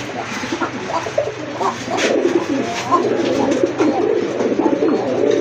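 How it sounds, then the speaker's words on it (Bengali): A pigeon coos close by in low, throaty, repeated rolling calls, with faint background noise. "মাশাআল্লাহ খুবই ইউনিক কালারের একটা কবুতর"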